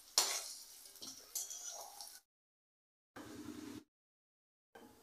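Utensils scrape and clink in a pan as lightly fried potatoes are lifted out during home cooking, in a few short bursts of clatter separated by silence.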